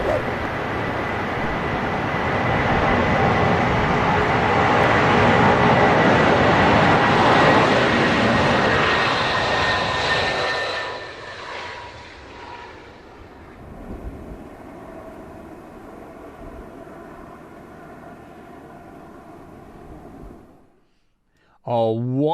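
An aircraft takes off from runway 09 with a loud, broad jet roar that holds for about ten seconds, then fades into a distant rumble as it climbs away.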